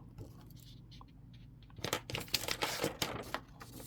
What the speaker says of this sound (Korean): 다그락다그락 소리 나는 건 여기 옆에 제 펜 이렇게 놓고 다시 뭐 줍고 하는 그 소리입니다.